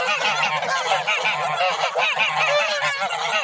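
A flock of domestic geese honks loudly and continuously nearby, many overlapping nasal calls with no pauses.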